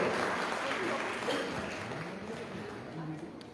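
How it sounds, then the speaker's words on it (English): Applause from an audience at a Women's Day honours ceremony in Kolkata, a soft, steady patter of many hands that fades gradually, mixed with low indistinct voices. "Can I have a round of applause for both of them?"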